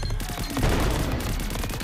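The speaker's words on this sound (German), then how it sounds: "das ist ein zusätzlicher Schuss, der 33 Schaden hat" Rapid bursts of gunfire in the video game Greedland, a dense fusillade of shots crackling continuously for a couple of seconds.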